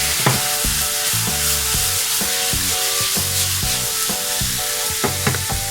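Scallion, ginger, garlic and chili stir-fried in a wok with soy sauce and vinegar, a steady loud sizzle broken by repeated scraping and clanking of the spatula against the pan, with no voices.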